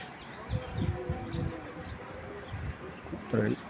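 A large, active racer pigeon coos in low, soft phrases close by, with a fuller burst near the end. A person talks over parts of it.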